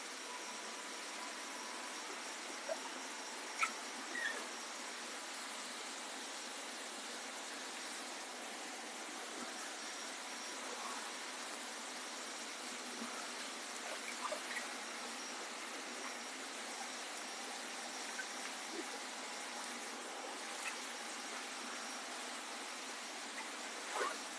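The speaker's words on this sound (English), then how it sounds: "Got the aerator working?" An aerator runs in water with a steady, even mechanical hum and faint bubbling that drones on alone for the whole stretch.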